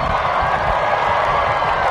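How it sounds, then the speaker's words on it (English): Large graduation commencement crowd cheering and applauding in a big hall, a steady dense wash of claps and shouts at high level throughout, with no single voice standing out. "stand up and wave and cheer your supportive family and friends"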